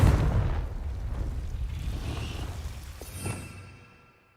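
The Confringo fire spell from Hogwarts Legacy detonates in a loud, deep explosive boom that rumbles and slowly fades over a few seconds, with a faint crackle in the tail.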